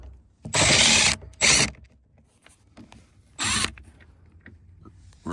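A power drill driving a Torx bit whirs in three short bursts, two close together then one more after a pause, loud and near with quiet handling noises between.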